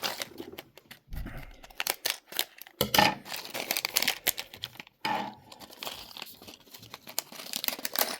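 A paper blind bag for collectible figures is torn and crinkled open close by, with bursts of rustling, ripping and crumpling paper in quick irregular handling sounds.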